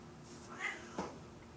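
A male cat gives two short, faint meows a moment apart, heard indoors against quiet room noise.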